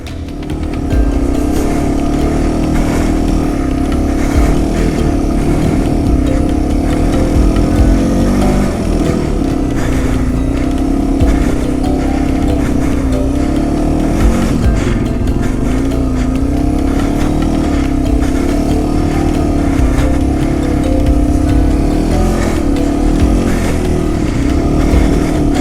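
A Yamaha TW200 motorcycle engine revs hard and steadily while climbing a hill through deep snow, a loud continuous close drone with slight pitch wavers and no talking.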